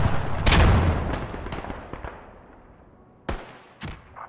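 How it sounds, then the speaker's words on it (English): Grenade blast in the World War One shooter Beyond the Wire: a loud close explosion that rolls off into a fading rumble, with scattered distant shots and cracks around it and no talking. "Throw a nade"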